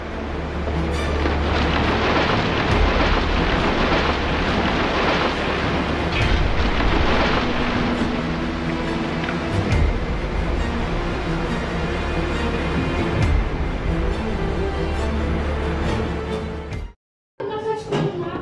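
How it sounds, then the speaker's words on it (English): A heavy thunderstorm over a town, with dense, steady rain and deep rolling thunder rumbling throughout, loud and continuous before a brief cut near the end. "the tempest unleashed its fury right in the middle of town"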